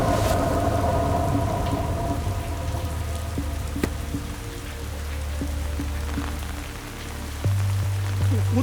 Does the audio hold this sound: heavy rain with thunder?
yes